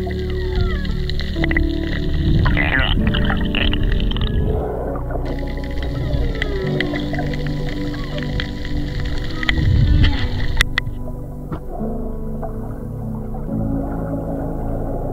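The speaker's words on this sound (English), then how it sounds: "as soon as you go down, you can hear whales." Whales vocalize underwater around a swimmer, with long moaning calls and shifting tonal cries layered over continuous watery rumble and clicks, loud and close throughout.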